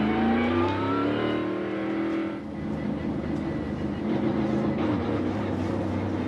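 Onboard a NASCAR Gen 7 Ford race car driven by Joey Logano at Bristol: a loud, continuous engine roar whose pitch sweeps up and down with throttle, steady and close throughout with no talk.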